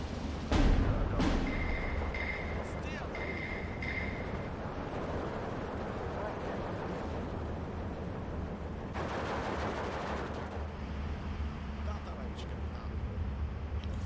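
Battle sounds from the Steel Division 2 WW2 real-time strategy game, with a sharp blast near the start and then a dense continuous rumble of gunfire and artillery, swelling midway, under a steady background wash.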